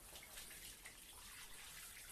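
Running water pours steadily while someone washes, a soft continuous hiss and splash like a shower or tap, faint and even throughout with no talking.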